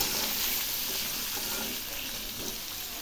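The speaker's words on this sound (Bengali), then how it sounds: "এবার আমি এই সজনে আর আলুগুলো খুব ভালো করে ভেজে নেব" Drumsticks and potato pieces fry in a pan with turmeric and salt, making a short, steady hiss of sizzling oil that fades slightly toward the end.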